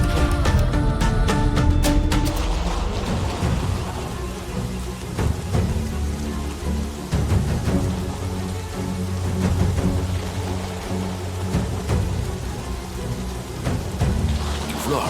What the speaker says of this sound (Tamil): இவ்வளோ அடமழையா இருக்கு.